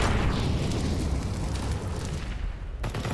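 Grenades explode in the CS:GO map Train during a tournament match, a dense, loud, continuous rumble of blasts that fills the whole stretch and cuts off sharply near the end.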